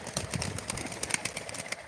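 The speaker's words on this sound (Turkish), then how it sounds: "Kuşlar dövüyor la." Pigeons scuffling at a live pigeon auction, quick wing flaps and clattering taps in rapid bursts close by, with soft cooing and no talk.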